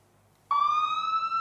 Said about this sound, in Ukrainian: Шкільний клас затягує димом, звучить сигнал тривоги, і вчителі швидко евакуюють малечу.